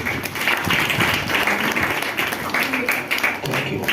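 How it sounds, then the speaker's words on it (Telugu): A church congregation at Sunday worship claps together to welcome the preacher into their midst. The clapping is brisk and fairly loud, and voices are mixed in with it. "మన దైవజనులు మన మధ్యలోకి వస్తుండగా అందరం చప్పట్లు కొట్టి ఆహ్వానిద్దామండి"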